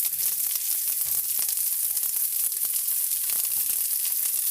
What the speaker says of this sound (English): we're sauteing some extra onions